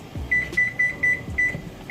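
A kitchen timer beeps in a rapid repeating pattern of short, high double beeps, clear and close over a faint background hum.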